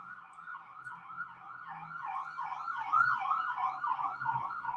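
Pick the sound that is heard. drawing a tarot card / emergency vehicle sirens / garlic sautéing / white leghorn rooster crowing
emergency vehicle sirens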